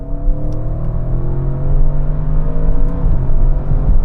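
An Audi RS6 pulls hard in third gear from 50 mph during a drag race, its loud engine drone climbing steadily in pitch with a rising whir, close and continuous, no voices.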